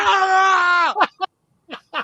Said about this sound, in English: A screaming man.